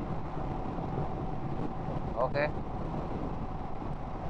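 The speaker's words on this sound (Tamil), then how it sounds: "பயங்கரமாக விண்ட் பிளாஸ்ட் இருக்குங்க, காலையில் 6 மணிக்கு பயங்கர காற்று" Strong early-morning wind buffeting a Royal Enfield Himalayan motorcycle on a highway ride, a steady loud rush of wind noise throughout with a brief spoken word midway.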